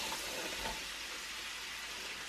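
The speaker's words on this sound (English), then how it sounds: "Now we're gonna saute our vegetables for our sauce. I added in about 1 tablespoon of butter. I'm gonna add in my mushrooms." Mushrooms sautéing in a tablespoon of butter in a pan, a soft continuous sizzle with faint stirring, quiet and even throughout with no talking.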